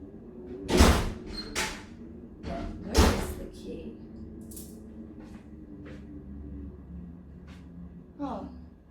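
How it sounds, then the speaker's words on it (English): A door blows open in the wind indoors, giving a couple of loud close bangs and thumps early on, then fainter knocks as a person talks over it. "The door just blew open."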